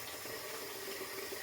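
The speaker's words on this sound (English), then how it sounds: "And then I'm going to put in my water." Warm tap water pours into a portable 16-liter mini washing machine, a continuous steady splashing stream at close range with a faint tonal hum, with no voices.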